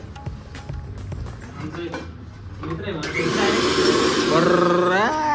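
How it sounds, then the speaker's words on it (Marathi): After some clattering, a mixer grinder starts up grinding kadhi ingredients with a loud, steady whirring whine that rises in pitch near the end. Voices can be heard faintly. "तर आम्ही आता मिक्सर लावतोय."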